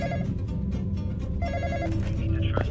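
A telephone rings in The Graveyard Experience, a game set in a graveyard at night, giving repeated loud bursts of ringing.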